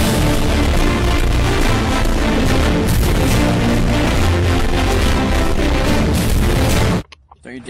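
Loud, continuous booming blasts and cannon fire in a multiplayer video game, with players talking over the roar before it cuts off abruptly near the end.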